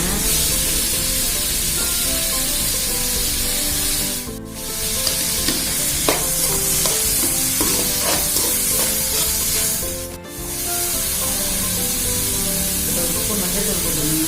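Tomatoes and ginger garlic paste frying in a pan for macaroni pasta, a steady loud sizzle with stirring scrapes throughout, briefly dipping twice as the pan settles.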